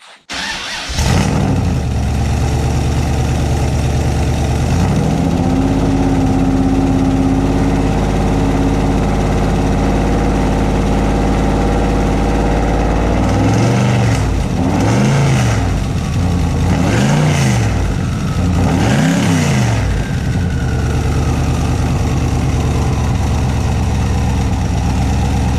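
A Porsche fitted with a turbocharged LS V8 starts up and settles into a loud, rumbling idle, then gets several sharp revs toward the end, each rising and falling back close by.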